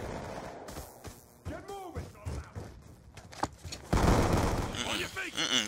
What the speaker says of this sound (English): Got the whole team shooting at me.